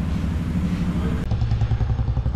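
A Royal Enfield Himalayan 450 motorcycle, freshly serviced for its first service, runs nearby with a low throbbing engine rumble and some clatter, the sound cutting abruptly partway through and continuing slightly muffled.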